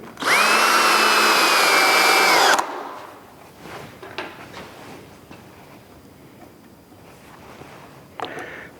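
A power drill drives screws at a slight angle to fasten a polyethylene saw fence, giving one loud, sustained whirring burst of about two seconds with a falling whine, followed by quieter handling knocks.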